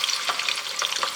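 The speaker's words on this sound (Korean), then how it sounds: "아, 확실히 튀기는 게 번거롭긴 한데, 와, 색 너무 예쁘다." Pork chunks for hong shao rou fry in hot oil in a home kitchen, giving a steady, close, bright crackling sizzle throughout, with no talk.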